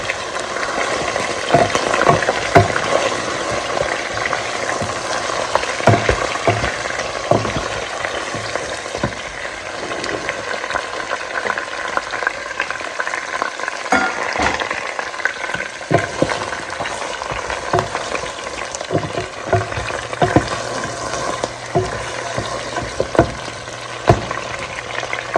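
Goat head meat fries lightly in a pot over golden browned onions, a constant hissing sizzle with repeated scraping stirs and utensil knocks, close up and uninterrupted for the whole stretch.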